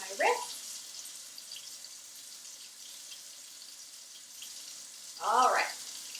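Hands being washed under a running kitchen tap, tops of the hands up to the wrists, give a steady soft hiss of water throughout, with a brief voice at the start and near the end.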